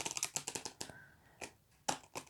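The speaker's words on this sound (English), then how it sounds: "Riffle, flick, shuffle," Oracle cards are riffled and shuffled in quick crackling bursts, close and fairly quiet, with short pauses between flurries of papery snaps.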